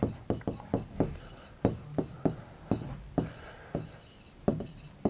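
Chalk writes on a board during a Class 12 maths lesson on linear programming, a quick series of tapping strokes and scratches, close and rhythmic, with a teacher's voice speaking quietly beneath.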